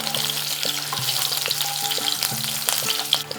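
Whole spices, fennel seeds, cardamom pods and cinnamon pieces, sizzle in hot oil with chopped green chilli and hing for a tempering, a steady close crackle broken by soft regular knocks of stirring.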